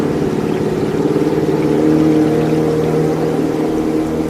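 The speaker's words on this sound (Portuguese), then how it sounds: "O som do nosso barco ecoa no rio sob a neblina da manhã." A boat motor drones on an Amazon river in morning fog, a loud, steady low engine hum with slight fluctuations, continuous and close, with no voices.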